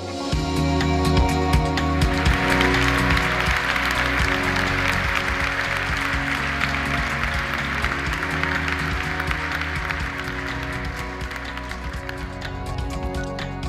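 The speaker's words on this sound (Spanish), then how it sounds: "Ahora queremos darte un más que merecido aplauso" Audience applause fills a gala hall after a career-in-sport award at the Mijas sports gala, a steady dense wash of clapping lasting over ten seconds, blended with sustained background music and no distinct speech.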